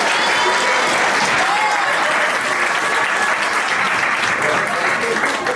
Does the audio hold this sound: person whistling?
no